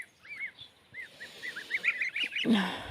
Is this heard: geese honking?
yes